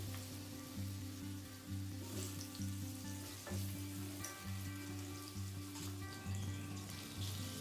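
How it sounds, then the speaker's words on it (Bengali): Cut potato pieces fry in hot oil in a wok, a soft steady sizzle with a low rhythmic hum running underneath, fairly faint and without speech. "তেলটা গরম হয়ে গেছে কড়াইয়ের মধ্যে পিস করে কেটে রাখা আলুটা নিয়ে নিচ্ছি"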